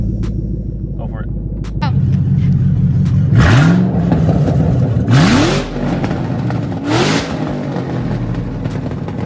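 Straight-piped Shelby GT500 Mustang with its exhaust opened all the way, idling with a deep rumble and then blipped through three loud, sharp revs that rise and fall close by.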